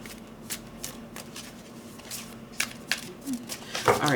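Tarot cards being shuffled and drawn by hand, a series of soft, close riffling flicks and slides with a faint steady hum underneath and a brief busier burst of card handling at the end.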